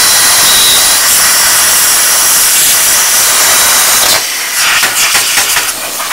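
A plasma cutter running at 15 amps on 100 PSI air cuts through steel with a loud, steady roaring hiss that breaks up into sputtering bursts near the end.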